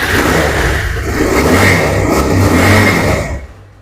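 Engine of a 2017 BS4 motorcycle in fresh condition, revved up close: a loud, continuous engine roar that rises and holds for a few seconds, then cuts off abruptly, with no talking.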